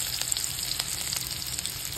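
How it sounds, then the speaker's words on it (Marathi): Garlic and green chillies frying in hot oil in a pan for a thecha, giving a close, continuous crackling sizzle with no voices. "आता हे मस्त परतून झालं"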